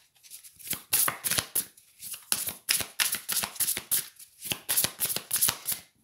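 Tarot cards shuffled by hand in quick, papery riffles and slaps, close and crisp, repeating in a steady rhythm with short pauses between bursts.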